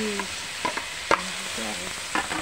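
Onion and tomato sautéing in a pan before squid is added, a soft continuous sizzle broken by several sharp utensil scrapes and knocks as the mixture is stirred, no talking.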